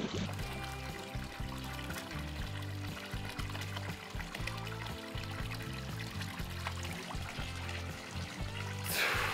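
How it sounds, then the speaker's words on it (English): Water pours into a backyard swim pond being filled over sand, a steady trickling flow under a layer of rhythmic background music, with no speech. "Okay, let it just fill up with water."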